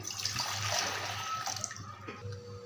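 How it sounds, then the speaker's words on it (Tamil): Water poured into a pot sitting on a stove, a close, continuous splashing pour that tapers off near the end. "இதில் ரெண்டு டம்ளர் தண்ணி நான் ஊற்றியிருக்கேன்"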